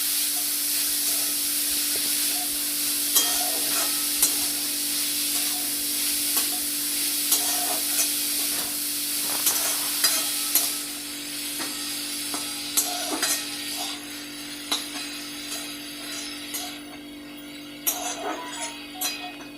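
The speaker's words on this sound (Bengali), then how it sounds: "এবার এর মধ্যে হলুদ ও লবণ দিয়ে দেব। আবারও নেড়ে নেব।" Food fries and hisses in a pan while turmeric and salt are stirred in, a steady sizzle with frequent clattering scrapes of the spatula that grow sharper and more scattered toward the end.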